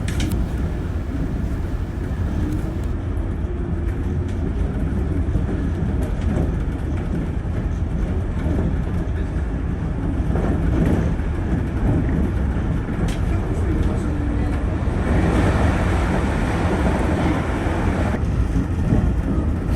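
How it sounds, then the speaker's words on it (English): Shonan Monorail suspension-type train rumbling along as heard from on board, a continuous loud low roar of wheels and motors with shifting hiss and rattle throughout. "It is a suspension type monorail"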